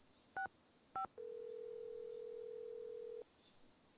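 Telephone dialing in a Nancy Drew video game: two short touch-tone beeps, then a sustained tone lasting about two seconds, heard clearly over a faint background hiss.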